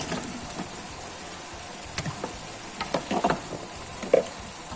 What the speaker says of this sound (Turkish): Yaxşıca qarışdırırıq